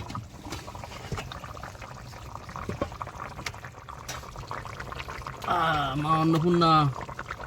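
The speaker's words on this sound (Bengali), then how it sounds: "এবার মাছটা দিয়ে দেবো।" Fish goes into a bubbling curry on an outdoor cooking fire, with soft pops, gurgles and splashy liquid sounds throughout, and a voice speaks briefly over the simmering near the end.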